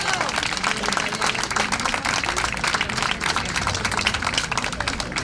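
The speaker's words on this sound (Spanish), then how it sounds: "Un aplauso, Paco." Crowd applauding an award winner at a walking-event prize ceremony in Zaragoza, a dense, even patter of many hands clapping throughout, fairly distant and steady.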